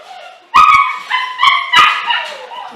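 A German Shepherd puppy gives a run of short, high yips and whimpers in four or five close, loud bursts, with quieter whining between them.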